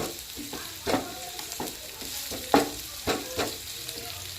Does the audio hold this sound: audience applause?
no